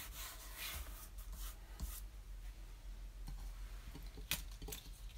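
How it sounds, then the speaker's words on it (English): Excess glue being rubbed off textured paper, a soft, close scuffing and brushing with a few sharper scrapes, faint and steady with no talk. "Just give it a little rub and it rubs away quite easily."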